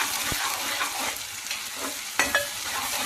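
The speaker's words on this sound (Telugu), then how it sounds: "బాగా వేగనిస్తుంది నూనెలో మసాలాని" Masala sizzles in hot oil for a koramenu fish curry, with a steady frying hiss and a few sharp scrapes as a spoon stirs through the pan.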